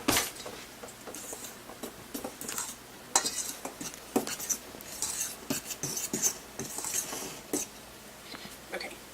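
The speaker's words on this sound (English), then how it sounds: "Okay, and then you just stir that up" A spoon scrapes and clinks against a bowl while stirring dry biscuit ingredients with sea salt, giving irregular sharp taps and scratchy rubbing that come close and clear, with no talk.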